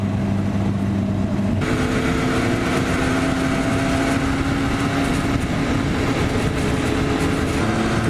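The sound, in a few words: motorcycles idling in traffic on a ride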